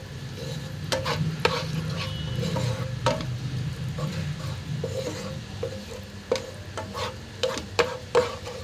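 Homemade Szechuan chutney is stirred in a pan over a low flame, with continuous sizzling under repeated scraping and clinking spoon strokes against the pan, close and fairly loud.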